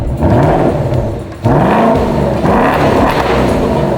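A 7th-generation Ford Mustang 5.0 V8 coupe fires up by key fob, its engine catching with a loud burst around the middle and settling into a steady, close, rumbling idle with harmonic whir.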